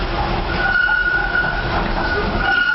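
An underground or light-rail train rumbles between stations near Canary Wharf in London, loud and steady from inside the carriage. A faint high squeal of wheels runs through the constant low roar.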